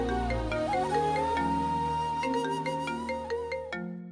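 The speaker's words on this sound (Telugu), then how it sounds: "ఎస్ఐ గారు ఫోన్ చేస్తున్నారు." A phone rings with an incoming call from a police sub-inspector, a melodic ringtone repeating over a sustained musical background and ending abruptly.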